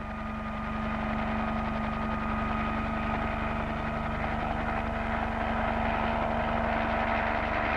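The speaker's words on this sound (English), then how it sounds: "The versatile helicopters repeatedly filled their bellies with what was needed in certain places and took off" A steady, loud engine drone with rotor-like pulsing continues throughout, a relief helicopter running close by after an earthquake in Peru.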